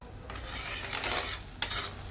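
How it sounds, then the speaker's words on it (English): Beef cooking in a pot for a Jamaican-style lasagna meat sauce is stirred, giving a steady close scraping and sizzling texture with a sharper clink of utensil against pot near the end. "So let me just quickly stir."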